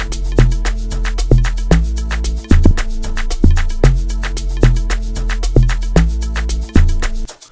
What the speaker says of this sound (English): So this is what my log drums sound like.